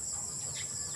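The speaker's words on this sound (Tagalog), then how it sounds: "Laki manok yan mga kabakyard." A large Asil-type rooster in a backyard gives a short clucking call close by, over steady background noise.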